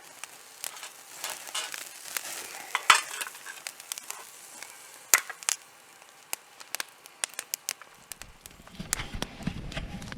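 Meat searing in a pan over a campfire outdoors on an April canoe trip, a soft steady sizzle with scattered crackles and sharp pops, plus brief clanks of utensils near the end.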